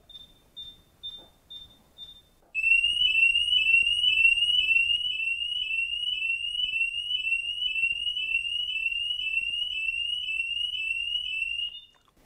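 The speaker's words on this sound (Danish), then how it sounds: "Den var høj, den alarmlyd" A Minut Point home alarm device sounds during a test: a few soft chirps, then a loud, continuous piercing siren pulsing rapidly for about nine seconds before cutting off abruptly.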